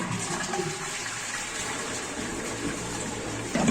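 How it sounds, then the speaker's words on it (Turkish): Water draining from a limescaled toilet cistern, a steady rushing gush of flowing water, close and continuous, ending with a brief louder surge. "Öncelikle arkadaşlar suyu boşaltıyoruz."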